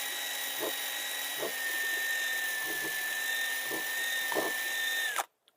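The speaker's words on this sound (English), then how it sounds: "I want to drill 4 holes in this thing" A steady high-pitched electric drill whines continuously for about five seconds, then cuts off abruptly, with faint low bumps underneath.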